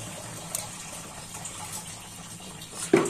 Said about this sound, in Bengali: আরো দু বালতি জলটা ঢাললে ভর্তি হবে মোটামুটি।